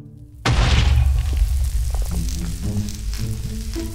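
Fire TNT in the Minecraft Mega TNT mod goes off with a sudden loud boom after a brief quiet moment, then a rumbling, crackling fiery sizzle lingers and slowly fades.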